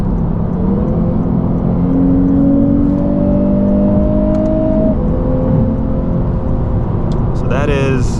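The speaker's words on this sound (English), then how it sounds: "I'll use manual mode, just so you guys can hear the higher RPMs." A 2022 Lexus RC350 F Sport engine, in manual mode on a night drive, climbs steadily toward high RPM with a rising harmonic drone, then lets off. Road and cabin noise continue underneath.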